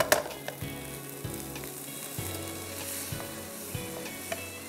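Stock is poured slowly into a hot flour mixture in a pan for soup, off the heat, producing a soft continuous sizzle and bubbling with occasional stirring taps.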